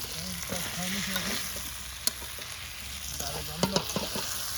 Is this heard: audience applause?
no